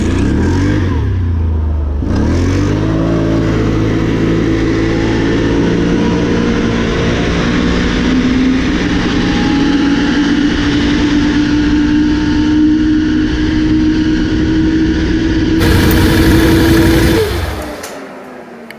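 A 2021 Can-Am Renegade 570 ATV engine with a Dalton clutch spring revs up close and holds at high revs, loud and droning with a rising pitch, before dropping off at the end.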